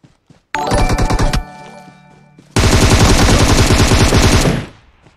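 Loud automatic gunfire from a shooting video game rips out in two sustained bursts, a shorter rattling volley followed by a longer, denser one after a brief lull, with no talking.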